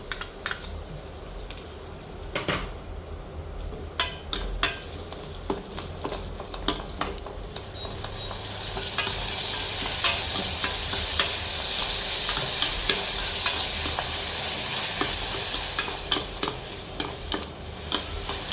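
Tomatoes frying in a pan for mendu vada, with a steady sizzle that swells louder midway, overlaid by scraping stirs and occasional clinks of a spoon against the pan.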